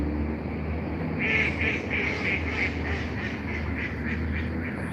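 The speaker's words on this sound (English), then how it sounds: "These ducks laughing at me." Ducks quack in a run of repeated, rhythmic calls that starts after a second and continues to the end, fairly close, over a steady low outdoor rumble.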